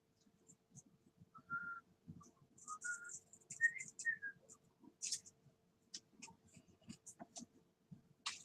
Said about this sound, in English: Don't mind my random inane humming or whistling.